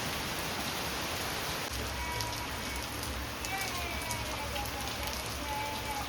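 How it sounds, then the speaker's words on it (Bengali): Heavy rain pours down during a stormy morning in Bangladesh, a dense, loud, unbroken hiss of drops on surfaces that fills the whole stretch, with faint voices talking underneath. "কি পরিমাণে বৃষ্টি হচ্ছে দেখো, প্রচণ্ড জোরে বৃষ্টি হচ্ছে।"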